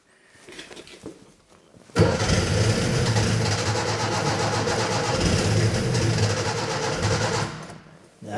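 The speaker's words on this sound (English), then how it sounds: "I'll crank it over again quickly and see what we got" A Fiat 600 engine cranking over on the starter, a steady loud mechanical churning that runs continuously for about six seconds after a brief quiet pause, then cuts off without firing.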